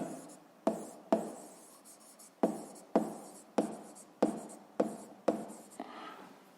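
Chalk or pen writing a physics formula by hand on a board in a quiet classroom, with eight or so distinct tapping strokes and scratchy scrawls spaced at an uneven rhythm, no talk.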